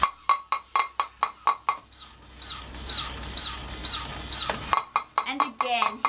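A wind-up toy monkey beats a little drum in quick, evenly spaced taps, close and bright; the taps stop briefly midway while other softer noises take over, then resume at the same steady pace.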